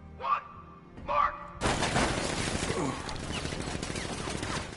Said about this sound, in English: Activate sentry guns on my mark.